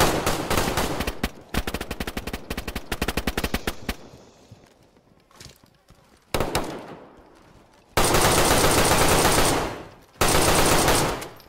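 Automatic gunfire from the PS5 video game DayZ rattles in rapid bursts, first a long stuttering volley, then a quiet lull, then loud sustained blasts of fire that cut in and out.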